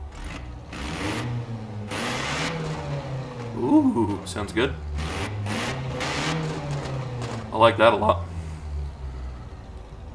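Engine revs in Forza Horizon 4, a steady mid-pitched drone that rises and falls in a few swells, with someone talking over it.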